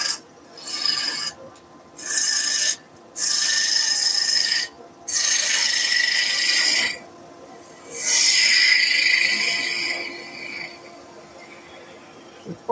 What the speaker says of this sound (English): I'm going to make this shape with the bowl gouge